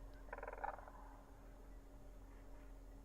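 Alaska sandhill cranes give a brief, soft purring trill outdoors over a pond, a short burst near the start followed by quiet background.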